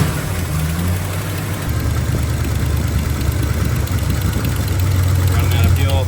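The engine of a 1978 Dodge truck idles steadily up close, running off its fuel tank with a low rough rumble that holds even throughout, with no talking over it.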